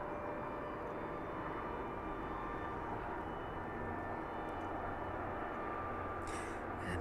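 A fixed-wing airliner departing East Midlands Airport in the evening and climbing toward Belfast, a steady, broad jet roar held at a distance throughout with no change in level.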